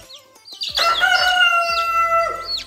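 A rooster crows loudly and close in a coop, a long drawn-out call, with shorter clucks and chicken calls around it.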